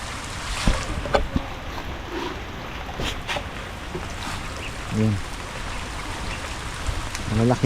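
Steady heavy rain on a farm hisses continuously, with occasional louder drips and knocks breaking through the wash of sound.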